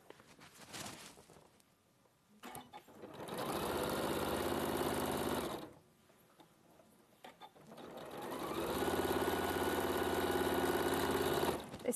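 A sewing machine stitching in two long runs, each a steady loud mechanical whir of several seconds, separated by quieter pauses with faint handling clicks.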